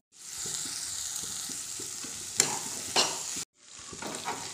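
Meat curry being stirred in a pan, with a loud close sizzle, repeated scraping strokes of the spoon and a couple of sharper clatters, briefly cut off before the sizzling resumes.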